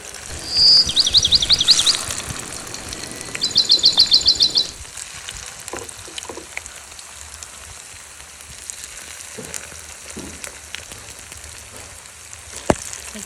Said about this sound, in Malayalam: എണ്ണ നല്ല ചൂടായതിന് ശേഷം ഈ ഉണ്ടാക്കി വെച്ച വട അതിലൊക്കെ ഇടുക